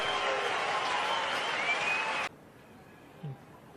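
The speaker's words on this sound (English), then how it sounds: "Listen to the crowd." A cricket crowd at a big match cheers and applauds loudly in a dense, steady roar, cut off abruptly after about two seconds into quieter ambience.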